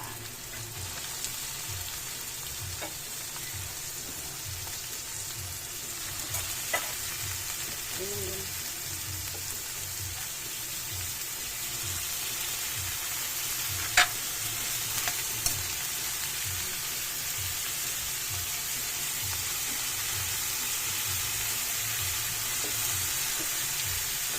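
Bitter gourd (ampalaya) stir-fries with tomato and garlic in a pan, giving a soft, steady sizzle beneath a regular low thumping of the spatula and a few sharp clinks.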